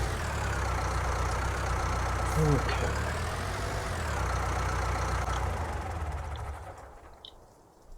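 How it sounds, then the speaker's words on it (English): A small-farm tractor engine in Skrzyszów idles with a low, rumbling drone, then shuts down and the sound fades away near the end. One short spoken word comes midway. "This tractor does have a very nice shutdown noise."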